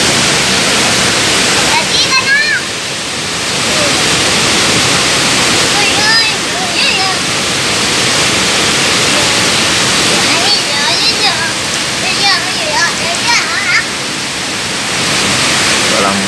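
Likid Falls in Santa Praxedes, Cagayan, roars as a steady, loud, broadband rush of falling water, close and continuous, with faint bird chirps or voices flickering above the wash.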